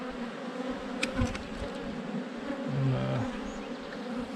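Honeybees buzzing around an opened hive shortly after it swarmed, a steady close hum filling the clip with a few brief louder passes.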